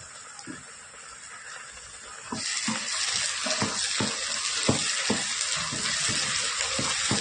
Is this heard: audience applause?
no